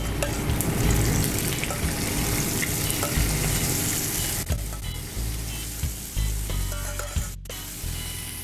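Steady, loud sizzling of shrimp and thyme frying in a pan, with crackling and occasional stirring clatter throughout and a brief dip near the end.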